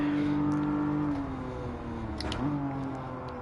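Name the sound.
race car engine revving in Gran Turismo 7 video game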